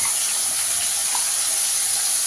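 Onion, ginger, tomato and green chili masala sizzles in a pan while cooking for a pointed gourd (potol) curry, a steady, close hiss of frying oil with no other sounds.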